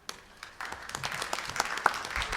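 Audience applause welcoming a doctor to the stage at a medical session: a room of people clapping, building quickly and holding at a steady, moderately loud level.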